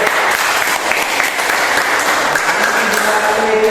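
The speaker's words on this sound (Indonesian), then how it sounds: "Tepuk tangan untuk kelompok B." A classroom of students claps loudly and continuously for group B after its presentation, with a dense, steady wash of applause from start to finish.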